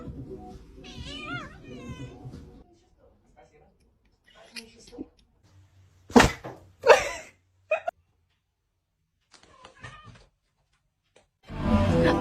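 A cat meows in several short calls spread over quiet stretches, with people talking and other brief noises in between.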